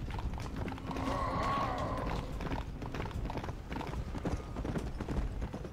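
Horse hooves clip-clop at a steady walking pace in Red Dead Redemption: Undead Nightmare, fairly close and clear, with a brief whinny early on and no talk over it.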